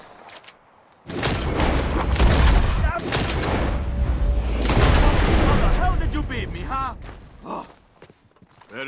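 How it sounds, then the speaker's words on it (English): Revolver shots fired at bottles in Red Dead Redemption 2, a series of sharp cracks with clattering over a busy stretch, while people talk before and after. "Whoever shoots more of these bottles wins. Just draw your gun and aim when you're ready"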